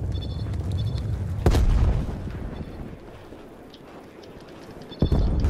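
A bomb drop in the video game Call of Duty Black Ops Cold War, heard as two deep booming explosions several seconds apart over a steady game background hum.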